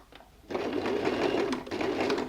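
A sewing machine runs a plain straight stitch to attach bias binding to a bow-back dress, starting after a brief pause and then humming and clattering steadily at close range.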